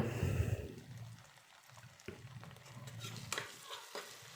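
Ginger-garlic paste frying in a pan with bay leaf, cinnamon and cardamom over browned onion for halim, faint sizzling under scattered scraping of a spoon being stirred, with soft clinks toward the end.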